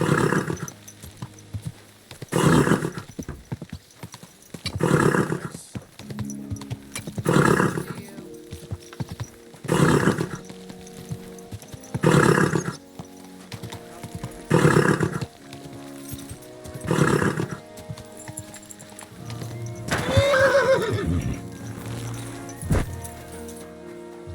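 In the video game Kingdom Come: Deliverance II, a horse's hooves clop in a slow, regular rhythm of heavy footfalls, followed near the end by a loud neigh, all fairly close.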